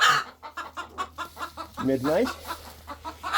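Hens in a backyard flock cluck in short, rhythmic bursts, close and fairly loud, with a rising, squawking call partway through and a brief spoken word under the clucking.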